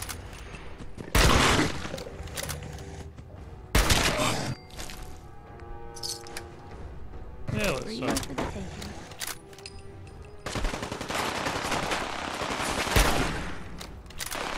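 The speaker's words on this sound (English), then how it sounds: "That shot missed." Gunshots in the video game Fallout 4: several loud, heavy blasts and bursts of fire spread across the stretch, with crashing impacts between them and game sounds in the gaps.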